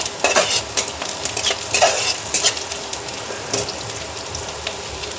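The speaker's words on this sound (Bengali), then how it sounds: "পেঁয়াজগুলোকে আমাদের হালকা সোনালি রং হওয়া পর্যন্ত ভালো করে ভেজে নিতে হবে।" Onions frying in mustard oil in a pan, a constant close sizzle broken by repeated scraping stirs of a spoon against the metal, with no talking.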